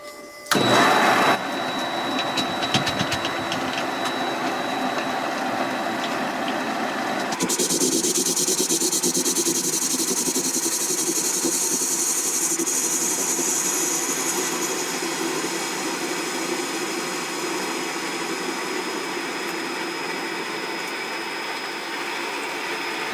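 A small lathe parting off tough 1045 steel gives a steady loud mechanical whine and hum with a bright tonal squeal, rumbling briefly at the start, then shifting in pitch partway through and running on with no talk.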